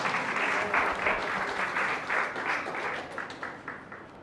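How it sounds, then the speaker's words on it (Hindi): A church congregation in Mumbai claps loudly, a dense, sustained burst of applause from many hands that holds steady and then thins toward the end. "आज जोरदार ताली से मेरे बेटे जैरेड को धन्यवाद।"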